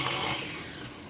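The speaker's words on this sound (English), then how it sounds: "if you have a KitchenAid, you will need this attachment. And let's mix it." KitchenAid stand mixer whipping fruit coffee cake batter with vanilla extract, a steady soft whirring wash with faint splashy texture, close and continuous without talk.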